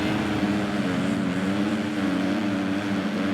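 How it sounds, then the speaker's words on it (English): Dirt bike engines in a Supercross video game rev together at the race start as a dense, continuous, loud drone of droning motors with no pauses. "So here's Liz revving up alongside Oldenburg and Fortner"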